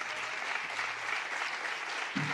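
Steady, dense audience applause at a closing session of the international geography festival, honouring the festival director, filling the whole stretch at an even level with no talk over it.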